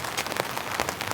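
Rain patters steadily on a tent or tarp at a campsite in heavy weather, a dense, even crackle of drops close by with no voices.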